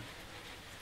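Steady rain falls in the DayZ video game, a dense, even hiss of drops with no breaks, fairly quiet and without voices over the short stretch.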